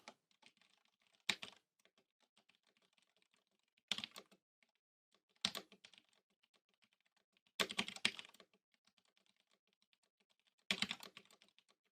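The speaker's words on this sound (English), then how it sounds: "Let's do a typing test on these sweet cherry reds." Bursts of rapid typing on a mechanical keyboard with Cherry Red switches come in five short clusters of soft clacks, separated by near silence and faint isolated taps, recorded up close and quiet.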